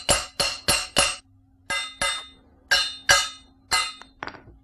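A hammer striking a part being fitted onto a BMX bike, nine sharp metallic clinks in an uneven rhythm with brief pauses, close and loud with quick decays.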